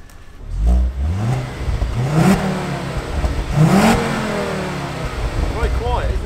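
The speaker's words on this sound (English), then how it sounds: "Just gonna give her a couple of little revs so you guys can hear what she sounds like." A Ford Focus RS engine, a five-cylinder, revs up twice in quick rises and falls, rumbling low at idle between the revs, with a voice briefly audible.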